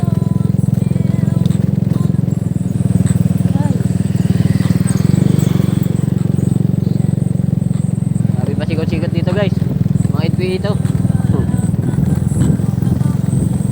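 Motorcycles riding a rocky trail, a steady loud engine drone running throughout with some crunching clatter, while a rider talks over it.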